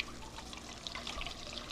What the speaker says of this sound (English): So basically you just pour this through a strainer